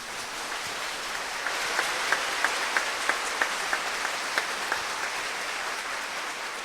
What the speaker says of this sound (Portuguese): Você acha que vale a pena aplaudir essa palavra?